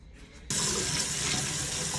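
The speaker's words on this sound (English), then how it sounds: "So I'm about to hit it in the sink and cool it down." Cold tap water gushes into a sink to cool a hot sublimated tumbler fresh from the oven, starting abruptly after a moment of quiet and then running as a steady, loud splashing stream.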